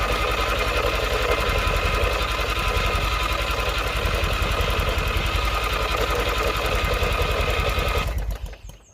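An old barn-find race mower engine, its choke removed, runs with a steady, rapid, rattling putter close by, then abruptly cuts out near the end.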